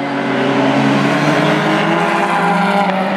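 Closed-wheel race cars roaring around the track at Mission Raceway, a loud, sustained engine drone that holds steady throughout with a slight shift as the cars pass.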